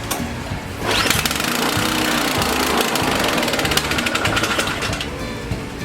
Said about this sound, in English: Got the choke out again. Won't stay running with the choke out.